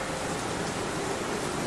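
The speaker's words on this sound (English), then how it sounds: "it's rainy out here" Rain in the video game Halloween 2 pours as a steady, even hiss of dense falling drops, continuous and unbroken with no voices.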